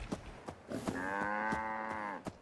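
A Brahmin cow in the Fallout video game lets out a single long, close moo with a rich tonal drone, surrounded by faint footsteps or thumps, no talking.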